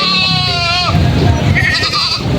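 Goats bleating at a busy livestock market, a long wavering cry up front followed by more overlapping bleats amid crowd chatter and bustle.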